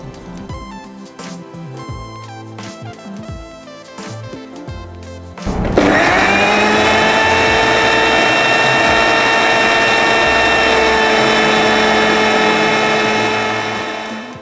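An electric blender purees brown onion, about 200 grams of curd and 150 ml of water for a vegetable korma. Loud, steady, high-pitched whirring runs for about nine seconds and eases slightly at the end, after several seconds of clattering kitchen sounds.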